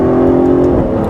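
An Aston Martin DB11 engine pulls under throttle on a racetrack: a loud, steady droning tone heard from on board that dips slightly in pitch near the end of the short burst.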